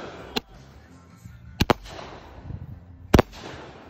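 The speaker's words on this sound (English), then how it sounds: "that's the last firework in the world!" Fireworks set off outdoors behind the scenes of a filmed stunt: a sharp crack followed by a rapid double pop, then another loud bang, each sudden and near.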